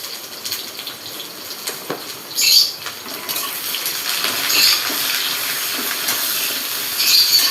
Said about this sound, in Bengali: পেঁয়াজ দিয়ে দেওয়া হলো ভাজার জন্য তেলে